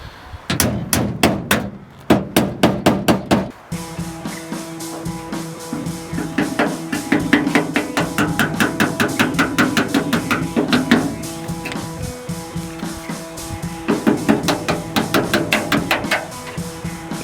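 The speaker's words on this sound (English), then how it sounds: "probably just end up just chiseling them off" Metal hooks are chiseled off with a hammer, producing quick, sharp, close strikes in fast bursts, followed by longer runs of steady, rhythmic blows.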